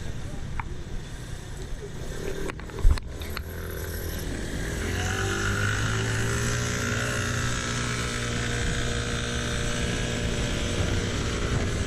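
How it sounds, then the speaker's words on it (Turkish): An electric bicycle runs on throttle alone on an evening ride, with no pedalling. Its motor whine climbs and then holds steady under constant wind rush, after a couple of sharp knocks early on. "Şimdi sadece pedal çevirmeden gaz koluna basarak gideceğim."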